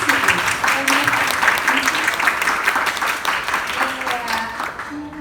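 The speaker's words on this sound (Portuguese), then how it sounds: "eu queria pedir uma salva de palmas para o Mark" Loud, close applause from an audience, with steady rapid clapping throughout and faint voices mixed in.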